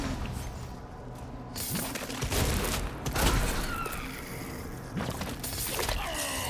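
Several heavy shotgun blasts fire at tentacles in a video game, spaced a second or so apart amid a busy, cluttered wash of crunching and shattering game effects.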